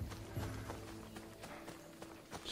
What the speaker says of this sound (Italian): se è troppo lontano prendo il cavallo